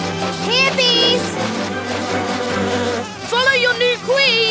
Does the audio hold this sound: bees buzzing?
yes